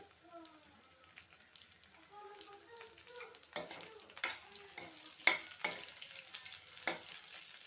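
Coriander seeds and chopped onion frying in a pan, a faint hiss at first, then sharper crackles and spatula clicks as the stirring picks up partway through.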